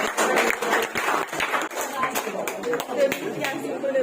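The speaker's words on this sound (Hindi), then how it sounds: "एक बार ताली बजाइए" An audience of students at an exam-preparation gathering in India claps on cue, with distinct, fairly close hand claps in uneven bursts and voices chattering alongside.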